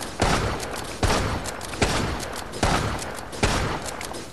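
Five evenly spaced, punchy gunshots fired at an enemy in Resident Evil Resistance, each sharp crack followed by a short decaying tail over a steady background hum.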